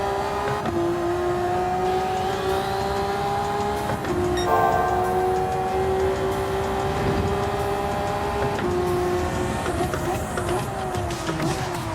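Race car engine in the All-Japan GT Challenge racing game, a steady high whine sweeping through a corner at speed with tonal shifts as it slides, loud and continuous throughout.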